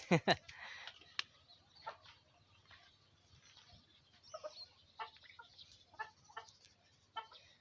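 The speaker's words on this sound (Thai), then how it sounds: "ตรงนี้ก็มี ไก่ชนนะครับ นี่ครับเลี้ยงไก่ด้วย" Chickens and fighting cocks on a rural farm cluck and call in a quick burst up close, then keep up scattered, softer clucks at a moderate distance through the rest of the stretch.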